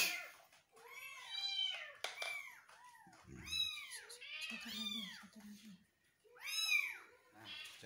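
Orphaned kittens being bottle-fed milk let out frequent high, wavering meows close by, calling almost continuously and sometimes overlapping, with a few soft handling noises in between.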